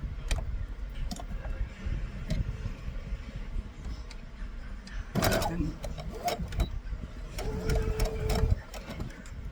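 A sewing machine stitches a quarter-inch sashing seam on a first quilt, in short bursts of quick mechanical rattling and ticking separated by pauses. Fabric handling and a soft voice can be heard between the runs.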